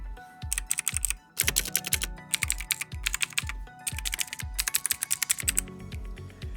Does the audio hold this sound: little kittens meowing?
no